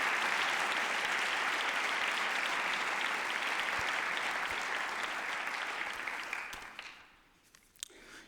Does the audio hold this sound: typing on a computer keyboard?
no